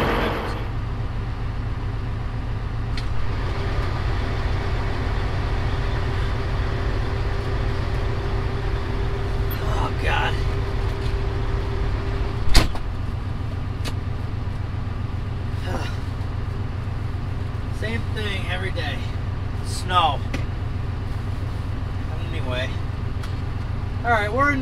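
Kenworth W900 and Peterbilt 389 dump trucks idling in a yard, a steady low diesel rumble running throughout with a brief clunk midway and faint voices nearby.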